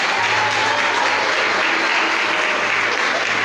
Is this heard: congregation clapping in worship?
yes